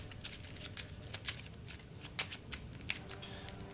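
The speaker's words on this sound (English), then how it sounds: "I'm going to reshuffle the hit location deck." Deck of game cards shuffled during a Kingdom Death Monster board game session, with repeated soft riffling bursts and several sharper snaps, close and fairly quiet over low room noise.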